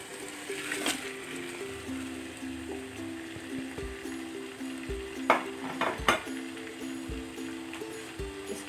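Tomatoes and spices fry in a pan for chicken biryani, a steady close sizzle broken by scraping stirs and a few sharp utensil knocks against the pan.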